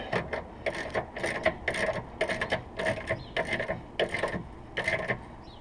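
A ratchet snugs bolts on an Eibach anti-roll sway bar kit on a Scion FR-S, giving a rapid series of about ten sharp clicking bursts in steady rhythm, close and clear.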